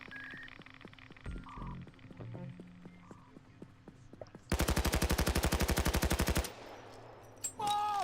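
Rapid automatic gunfire in the heist video game Payday 2, a dense rattling burst of about two seconds that follows quieter in-game sounds and is then trailed by a few scattered shots.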